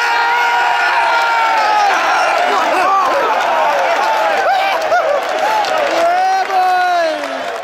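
A large cricket crowd at a Test match erupts in loud, sustained cheering, whoops and applause, a dense roar with excited shouts rising above it throughout.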